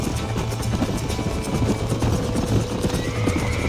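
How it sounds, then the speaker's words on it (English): A horse in the Western video game Red Dead Redemption whinnies while hooves clop steadily, loud and close over a constant low rumbling background. "These are fine horses."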